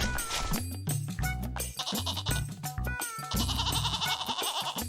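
A goat bleats in a comic village story, repeated wavering cries with a nasal tone, fairly loud and close, alongside other scattered sounds and no clear talk.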